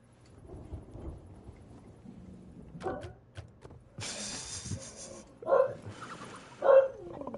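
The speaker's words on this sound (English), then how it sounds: "Now, what are you barking at?" A dog in the pirate game Sea of Thieves gives a few short, fairly close barks in the final seconds, following stretches of quiet ambience and a burst of thunder-like rumble.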